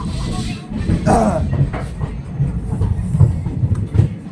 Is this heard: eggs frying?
no